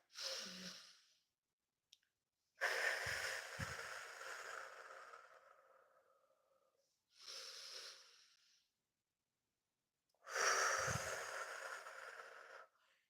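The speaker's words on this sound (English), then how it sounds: "You're going to take a deep breath for as long as you can through your nose" Deep breaths drawn in through the nose as a calming breathing technique for early labour at home, each a long airy inhale heard close and alone, repeated several times with silent pauses between.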